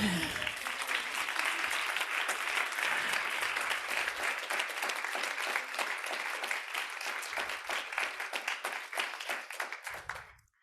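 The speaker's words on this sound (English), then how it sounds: "You can applaud." Sustained applause from an audience at a G7 gender equality event, dense steady clapping that holds for several seconds and then gradually tapers off.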